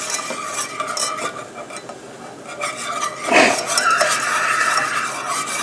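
Vegetable water added to thickening gravy in a pan for a roast beef dinner and stirred, with a utensil scraping and clinking against the pot under a soft continuous sizzle.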